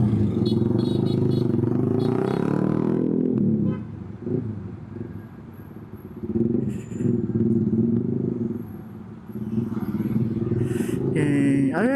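Congested city road traffic near Taytay and C6 in the Philippines, with motorcycles and cars rumbling and idling close by, engines revving and clattering steadily, under occasional talk.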